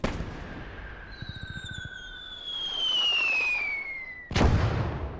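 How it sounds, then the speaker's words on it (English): German mortar shells burst in a Battle of Arras war video game, with a rattle of distant gunfire, a whistling incoming round, then a sharp, loud blast near the end. "If this was a German mortar pounding one of my guns, it would have hit the gun by now"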